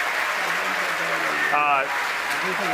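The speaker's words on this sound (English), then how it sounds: "The crowd's going nuts here at SpaceX headquarters in Hawthorne." A crowd at SpaceX headquarters in Hawthorne cheers and applauds during a Falcon 9 launch, a steady roar of clapping and shouting with a voice rising over it.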